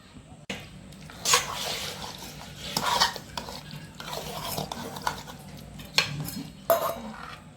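A spoon stirring cooked vegetable khichdi in a pot, with soft scraping and several sharper clinks of metal against the vessel at irregular intervals, close and moderately quiet.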